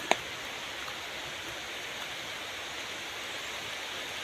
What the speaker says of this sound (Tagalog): So guys, ang lakas na ng ulan.